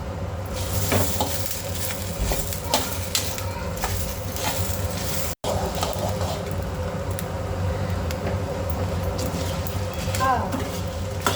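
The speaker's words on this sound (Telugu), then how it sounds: "ఇందులో ఒక గుప్పెడు కరివేపాకు వేసుకో" Curry leaves, dried red chilies and coriander seeds fry in a pan for Andhra-style karam podi, a steady close sizzle with occasional stirring scrapes throughout.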